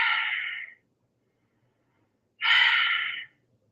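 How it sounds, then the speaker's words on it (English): Two deep breaths taken during a morning yoga routine, each a broad airy rush lasting under a second, separated by a long silent pause, close and fairly loud with nothing else around them. "take 3 deep breaths"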